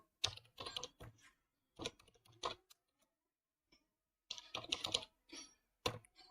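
Code is typed on a computer keyboard in short, clattering bursts of keystrokes separated by pauses, close and fairly quiet.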